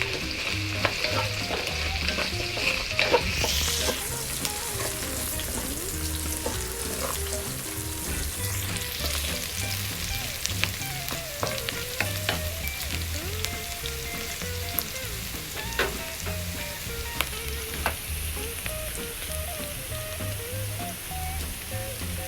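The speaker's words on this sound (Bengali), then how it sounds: "পেঁয়াজটা আমরা একটু বাদামি হওয়ার জন্য ওয়েট করছি।" Onions frying in a pan toward browning sizzle steadily throughout, with scattered clinks and scrapes of stirring against the metal and a brief brighter hiss early on.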